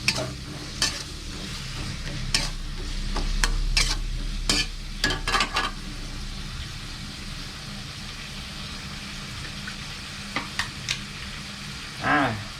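Red curry paste stir-fried with beans and crispy pork, a continuous sizzle broken by repeated sharp scraping strokes of a spatula against the pan, clustered early and again near the end.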